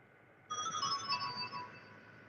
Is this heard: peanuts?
no